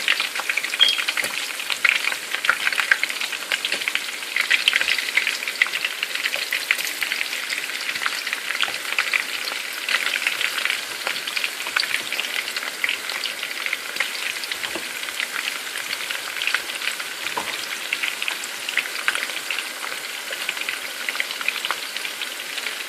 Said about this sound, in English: we're going to go ahead and fry up our onions